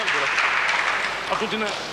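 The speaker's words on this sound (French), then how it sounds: "Applaudit comme il le mérite par le public" A pétanque crowd applauds a near-carreau shot at a 1994 Canal Plus trophy qualifying match, steady clapping under a voice speaking over it.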